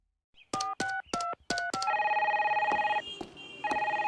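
A telephone rings in a series of electronic tones, several short bursts and then a longer warbling ring, clear and fairly close with no talk.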